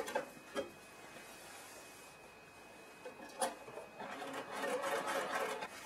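A domestic sewing machine quilts an outline stitch on a patchwork quilt, heard faintly in short bursts with brief pauses and light clicks, then running steadily again toward the end.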